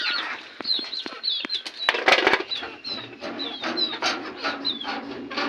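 Five desi village hens kept in a cage cluck and squawk close by, with bursts of wing flapping and rustling scattered through, irregular and fairly soft, with no talking.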